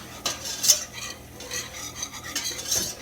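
A whisk scrapes flour around a pan over medium-high heat, making short scratchy strokes with a few brighter metallic clinks, close and fairly quiet with no voices.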